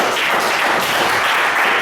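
A church congregation applauds together at the close of an evening service, a dense steady wash of many hands clapping that fills the room without pause.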